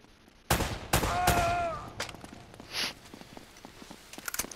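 Sharp gunshots crack from enemies in Uncharted: Drake's Fortune, a few loud close reports followed by scattered lighter impacts and footsteps, with no one talking.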